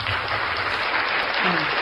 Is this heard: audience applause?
yes